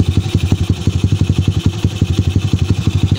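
A Honda XR200 motorcycle engine runs steadily at idle, its close, loud thumping pulses coming in an even, rapid rhythm with a slight mechanical clatter underneath.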